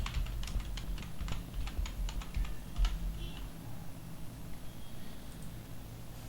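Quick bursts of computer keyboard typing clatter in the first half, irregular clicks in clusters that taper off into a quiet room hum for the rest.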